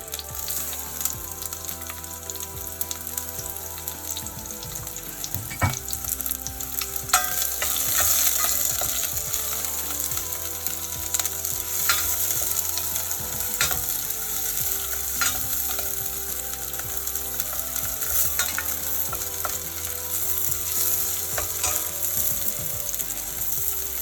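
Garlic fries over medium heat in a pan, sizzling steadily and close while a utensil stirs and scrapes with rhythmic clicking knocks, no talking.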